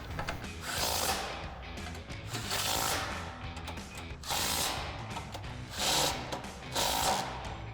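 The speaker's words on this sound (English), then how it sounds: "grab our impact and tighten them down" An impact wrench drives 13mm bolts into a 2005-2010 Mustang front strut in several loud whirring, rattling bursts of about a second each, with short pauses between them and no talk.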